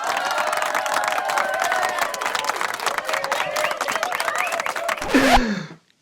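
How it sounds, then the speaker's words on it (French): Clapping and cheering from a small crowd of friends come close and lively, with shouts and voices mixed in, before cutting off abruptly near the end. "Applaudissements, mesdames et messieurs."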